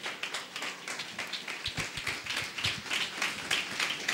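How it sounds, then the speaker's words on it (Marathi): A church congregation claps together in a fairly quiet, steady patter of many hands, with brief bursts of more rhythmic, distinct claps in the middle, heard at some distance without voices. "आनंदी आहेत ते जोरात टाळ्या वाजवतील."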